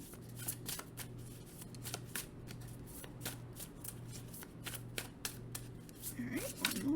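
A Divine Abundance oracle card deck being shuffled by hand, a rapid run of crisp riffling card flicks close to the listener, repeated in quick bursts with a low steady hum underneath.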